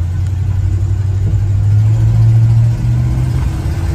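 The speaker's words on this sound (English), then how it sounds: "this has got the Chevrolet 350 cubic inch V8 turbo 350 transmission, and she shifts good" Low, steady rumble of a 1969 Chevrolet C10 with a 350 cubic inch V8 and Turbo 350 automatic transmission under way, engine pitch rising then easing as it shifts gear, heard from inside the cab.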